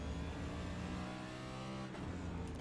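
A NextGen stock car in the iRacing simulator at Circuit of the Americas West holds a steady partial-throttle engine note in third gear, a loud continuous hum with a brief dip and a faint scrape near the end.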